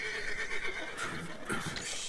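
A horse in the video game Red Dead Redemption 2 whinnies in a drawn-out neigh, close and clear, with faint hoof clip-clops and no talk.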